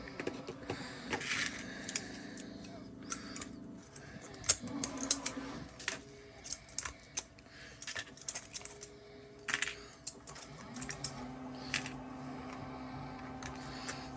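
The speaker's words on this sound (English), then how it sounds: "We got the printer going, as usual." A 3D printer prints a flexible articulated crocodile nearby with soft motor whirs, clicks and small tapping sounds at irregular intervals against a quiet background.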